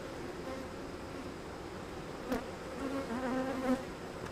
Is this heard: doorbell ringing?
no